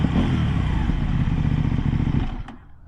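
2024 CFMoto 800NK motorcycle engine and exhaust running close by with a steady, gritty rumble for over two seconds, then dropping away quickly with a short click at the end.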